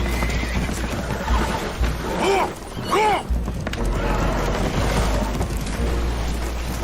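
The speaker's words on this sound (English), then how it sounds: "Horses are spooked, and we're taking on water." Spooked horses in Red Dead Redemption 2 let out a loud whinny amid constant rain-like noise and a low rumble.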